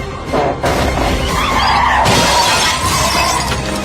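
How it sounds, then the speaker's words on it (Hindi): A car bonnet flies open and slams into the windshield, shattering the glass, heard as a loud crash and a burst of breaking glass over road and engine noise with a skidding sound, likely a dramatised sound effect. "गाड़ी का बोनेट एकदम अचानक एक झटके से खुला और खुलकर इतनी तेज विंडशील्ड से टकराया कि पूरा कांच छोटे छोटे टुकड़ों में बिखरकर"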